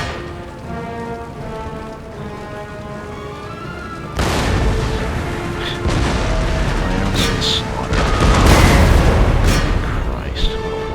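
Cannons fire in the Empire Total War battle game, with deep booms and sharp blasts over a dense rumble of battle noise while someone talks.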